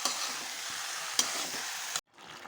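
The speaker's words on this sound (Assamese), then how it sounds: "এই মছলাখিনিৰ সৈতে কঁঠালখিনি আমি 10 মিনিট সময় ভাজিম।" Jackfruit fries in oil with a spiced masala while being stirred in a pan, giving a steady, close sizzle with scraping stirs, one sharp clink, and then a sudden drop to quiet.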